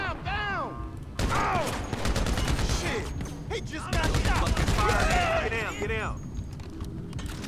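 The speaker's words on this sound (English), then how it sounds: "And you can hear the minigun." Minigun and other gunfire in the video game GTA V Online, rapid bursts of automatic fire with metallic ringing and whooshing effects, loud and close, with a voice talking over parts of it.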